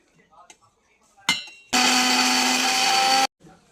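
An electric blender grinds onion, ginger, garlic, green chillies and rice flour into a paste, whirring loudly in one steady burst of about a second and a half after a brief start-up pulse, with light clinks before and after.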